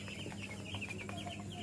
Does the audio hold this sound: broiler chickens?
yes